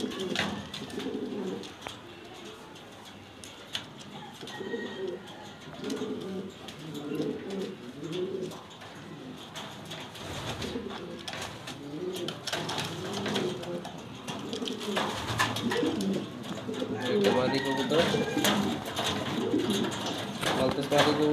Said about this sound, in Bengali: ব্ল্যাক কালার মালতেজ মাদি কবুতর